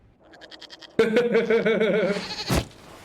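Goat bleating in Dragon Age Inquisition: a short wavering bleat leads into a louder, long quavering bleat, then a sharp thump near the end.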